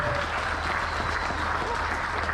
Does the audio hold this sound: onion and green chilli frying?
no